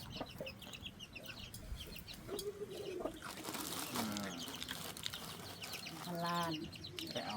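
Chickens cluck and squawk close by, with a flurry of wing flapping in the middle and faint talk in the background.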